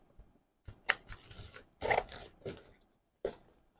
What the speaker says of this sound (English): So this is too long for the knotting. I'll trim this off.